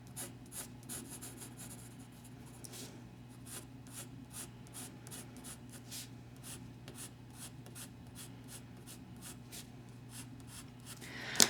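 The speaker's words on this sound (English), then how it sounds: "using my little eraser here, going to erase down the tops" A small eraser rubs across drawing paper in quick, repeated back-and-forth strokes, faint and close, with a steady low hum underneath and no talking.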